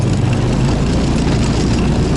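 A Buran snowmobile engine runs steadily near a house after heavy snowfall, a loud, close, continuous low rumble with no pauses and no talk.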